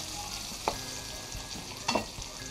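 Onions sautéing in a pan for a Filipino hotdog bistek dish, a soft steady sizzle with two brief scraping stirs of the spatula, close and fairly quiet, no talking.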